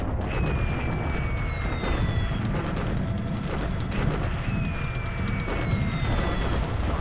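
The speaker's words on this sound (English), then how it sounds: "Alright, some more torpedo hits, like to see that." In the War in the Pacific video game, torpedo hits and bomb explosions boom again and again over a dense, continuous rumble, with faint whistling tones sliding across the din.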